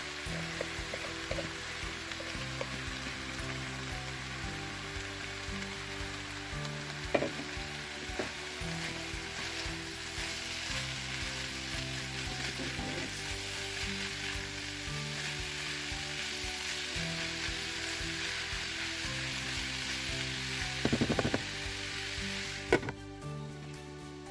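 Steady, close sizzling of cauliflower rice frying in a pan, a continuous crackle with occasional clinks and stirring scrapes.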